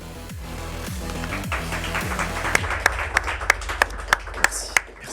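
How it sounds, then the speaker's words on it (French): A short burst of clapping, with sharp single claps ringing out one by one against a musical background. "Merci, les applaudissements, c'est extraordinaire."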